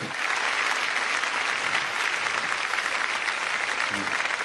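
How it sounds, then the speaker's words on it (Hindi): An audience applauds at a Hindi hasya kavi sammelan, a comedy poetry gathering: dense, steady clapping from a large crowd fills the whole stretch at even loudness, with no gaps. "पत्नी नहीं देखे बस इस हिसाब से ताली बजाओ।"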